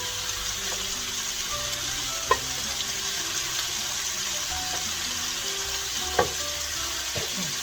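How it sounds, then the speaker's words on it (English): Steady sizzling of sausage frying in a pan, a continuous crackling hiss with a couple of faint clinks, no voices. "So it's just a process of frying it all."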